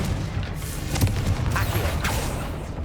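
Explosive blasts from the Confringo fire spell in Hogwarts Legacy, cast in a loft while searching for a chest, come as a couple of sharp bursts near 1 and 2 seconds over a steady rumbling game backdrop.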